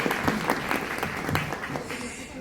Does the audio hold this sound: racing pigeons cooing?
no